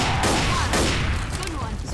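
Gunfire in a video game aimed at a pipe, two quick loud bursts of shots ringing out close together over constant game noise and voices.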